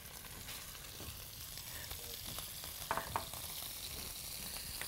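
Ground chicken frying in a pan with onion and garlic, a soft continuous sizzle with a few faint scraping stirs, quiet and steady throughout.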